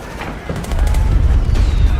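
Enemy gunfire in Metal Gear Solid 4 crackles and booms in a short, loud, rumbling burst that swells and holds, close and heavy.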